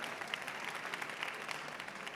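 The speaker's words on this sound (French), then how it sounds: "Ça s'applaudit." An audience at a panel session applauds, a soft, even wash of many hands clapping heard from a distance for a couple of seconds, steady and unbroken.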